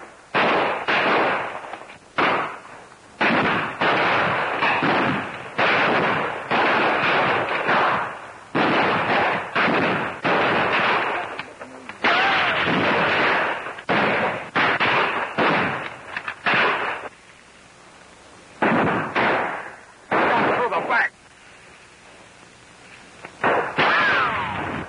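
Rapid gunfire fills a 1935 Marines battle serial, with dense volleys of loud shots in fast bursts broken by brief lulls and a few sparse gaps throughout.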